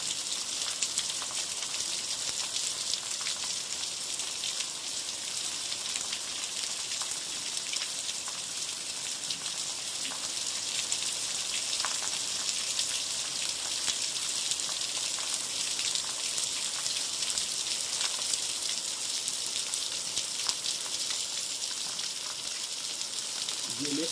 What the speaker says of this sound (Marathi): अनेक दिवसांपासून विश्रांती घेतलेल्या पावसानं आज गोंदली खुर्दीमध्ये अर्ध्या तासापासून चांगलं मोठ्या प्रमाणात हजेरी लावलेलं आहे